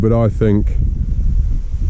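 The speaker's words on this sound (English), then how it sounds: "But it's that windy, it's a good 20 mile an hour" Steady low, broadband wind roar of about 20 mph buffets the microphone under a man's brief speech, continuing loud and gusty after he stops.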